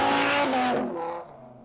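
Dodge Viper King Snake tuner car engine, loud and close, revving hard with tire squeal that fades as it pulls away.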